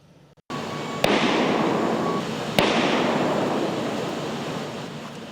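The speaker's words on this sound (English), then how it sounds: "we have heard some explosions since they started getting to work" Two sharp explosions set off during a SWAT team operation, each a sudden crack followed by a long, rolling, noisy boom that slowly decays, with wind in the background.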